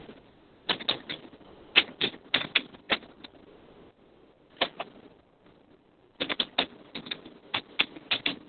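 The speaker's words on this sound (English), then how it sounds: "So now I'm typing the password once again." A password typed on a keyboard to log into a server, in bursts of crisp, close key clicks separated by a couple of short pauses, with no voices.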